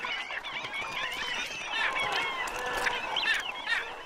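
Waterbirds call along the Amazon waterways where egrets gather, a busy overlapping chorus of honking, goose-like cries that continues throughout at moderate distance.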